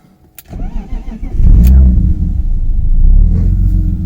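BMW E36 engine cranking and catching, then settling into a steady, loud, close idle rumble that holds to the end.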